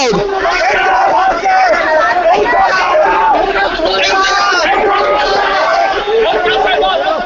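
Dense crowd noise at an Occupy Hong Kong street protest as police push in, with constant overlapping chatter and shouting close around, steady and loud throughout with occasional whoops.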